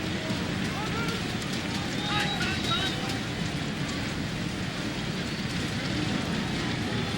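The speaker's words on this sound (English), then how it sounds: "The rain actually lands in the broadcast booth." Steady patter of rain falling in an open-air baseball stadium broadcast booth at Angel Stadium during a night playoff game, a constant soft hiss with faint taps beneath a broadcaster's talk and distant crowd murmur.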